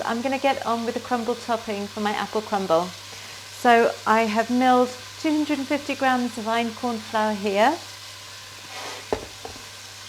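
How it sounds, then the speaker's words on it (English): Sausages fry in a pan with a low, steady sizzle in the background while someone talks over it at length in the foreground. "While the sausages are cooking, you can probably hear them in the background"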